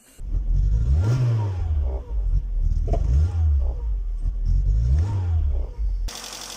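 A Peugeot or Citroën car engine, being diagnosed and running rough, revs up and down repeatedly, rising and falling in pitch about every two seconds, loud and close, with a clattering mechanical undertone.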